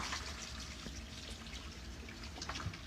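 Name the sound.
water pouring out of interior drain tile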